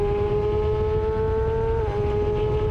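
Suzuki GSX-R1000R sportbike engine fitted with a Yoshimura slip-on exhaust, a steady loud droning note holding one pitch with a slight dip near the end, close and continuous with no talking.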